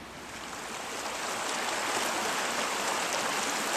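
Gravel from a classifier is panned in a stream, a continuous rushing, sloshing water wash that swells slightly louder after the first second and then holds steady, close up with no voices.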